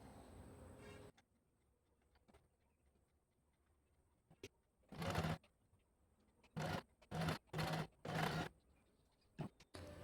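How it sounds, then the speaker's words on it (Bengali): A sewing machine stitching pleats into a puff sleeve: several short bursts of fast mechanical whirring separated by quiet pauses and small clicks, close by and fairly faint. "এবার মেশিনে সেলাই করে নেব।"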